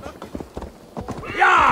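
Horse hooves clatter in quick clip-clop beats in Assassin's Creed Valhalla, close and moderately loud, with a horse whinnying near the end.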